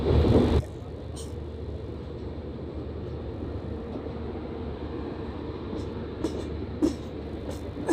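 Lucknow–New Delhi AC Superfast train at Bareilly station, a steady rumbling roar of the passing train, close and continuous, with faint voices and a few short metallic squeaks and clicks.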